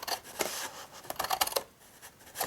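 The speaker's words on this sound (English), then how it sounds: "getting our scissors, cut up our score lines" Scissors snipping through card along scored lines for a stamped gift box, a series of short dry cuts and rasps, close and fairly quiet, with no talking.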